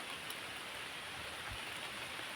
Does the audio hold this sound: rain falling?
yes